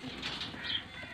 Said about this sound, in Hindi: ये डेरे वाले सारे कबूतर है